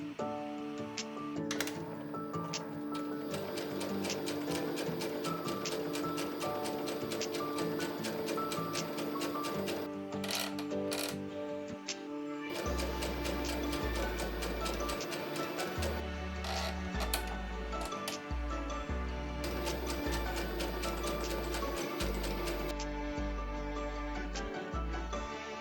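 A FEIYUE FY390 sewing machine runs a zigzag stitch with a steady, rapid mechanical ticking, partly buried under prominent background music throughout.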